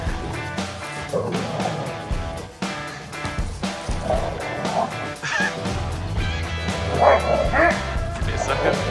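Rescue dogs barking, yipping and whimpering excitedly at home, close and loud in uneven bursts, with a person's voice talking among the noise.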